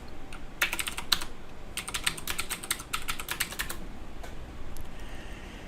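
Fingers type on a computer keyboard to log in, a quick run of close, crisp key clicks in bursts with short pauses between them, over a quiet room hum.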